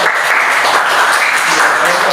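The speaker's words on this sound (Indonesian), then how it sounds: "tepuk tangan dulu buat" Classroom applause from students, a dense burst of clapping lasting a couple of seconds, loud and close, with some voices mixed in.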